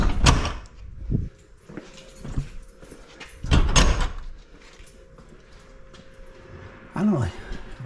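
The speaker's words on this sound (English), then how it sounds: "for the first time in, God, 15, 20 years, I'm going to attempt to open this door." An old shop door on torsion spring cables is heaved open in several loud rattling, scraping bursts separated by pauses, with someone talking between the pulls.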